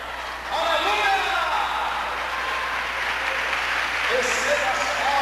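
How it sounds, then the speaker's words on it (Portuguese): Church congregation applauding during an evening prayer service, a steady wash of clapping from many hands with faint voices and shouts mixed in throughout. "Receba as palmas, Jesus."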